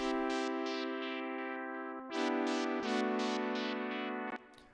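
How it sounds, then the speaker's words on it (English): A buzzy square-wave synth tone pulses rhythmically as a filter opens and closes, stepping up in pitch partway through, with no talking. "Square wave would sound like this."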